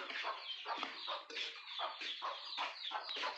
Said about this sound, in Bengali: আব্বা মুরগি আনছে